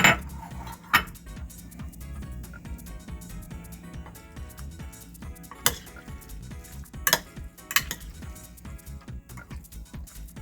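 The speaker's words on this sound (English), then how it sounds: "We're gonna pour it and mix it all up." Sauce and cucumber are mixed in a bowl with soft, steady stirring and occasional sharper clinks of utensil against the dish, all close and fairly quiet.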